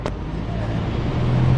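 A 1950s single-decker bus engine rumbles low and steady as it passes nearby in London, with traffic noise around it.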